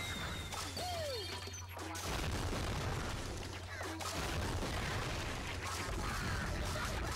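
Burst-fire weapon shooting in Rayman Raving Rabbids, a dense, continuous wash of crashing shots and impacts layered over game noise and a low drone, loud throughout.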